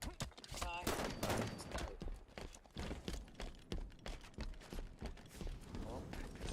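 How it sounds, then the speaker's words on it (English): Enemy gunfire in Halo 5, a rapid run of sharp shots with dense bursts throughout, close and loud over a busy game mix with voices in the background. "Enemy fire!"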